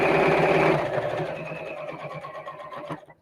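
A sewing machine stitches and backstitches Christmas fabric for crackers, a close, quick mechanical chatter that starts loud and then pulses in short rapid bursts as it slows and reverses.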